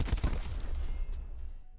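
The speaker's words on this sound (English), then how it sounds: "Nice, random explosion." A sudden loud explosion in Call of Duty: Black Ops 4, a heavy low boom with crackling debris that rolls off and fades over under two seconds, a few faint game clicks trailing after.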